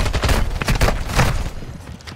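Rapid bursts of gunfire in the video game DMZ, several loud close volleys of shots in quick succession, fading toward the end with no talk over them.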